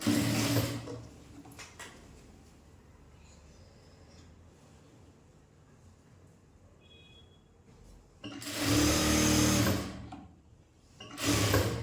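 A sewing machine runs in short loud bursts while stitching the edge of a fabric piece. Its whirring motor starts and stops, with a quiet pause between the first burst and the later two, and no talking.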